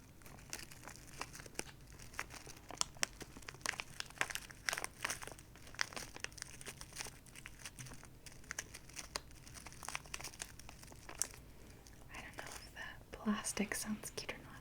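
Plastic packaging holding miniature hinges crinkles and crackles softly and close up, in a steady stream of small crisp rustles with quiet whispering.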